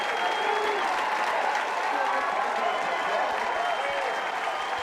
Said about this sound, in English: The crowd is erupting now after that stop.